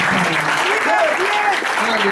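Church congregation applauding during a French-language sermon, a steady close wash of clapping that runs the whole time with voices and sung or called tones rising over it.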